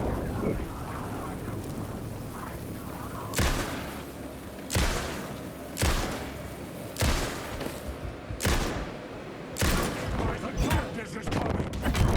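Gunfire in the video game Alan Wake 2 cracks out as a series of loud, separate shots spaced a second or so apart over a rumbling ambient backdrop, with a voice talking between them.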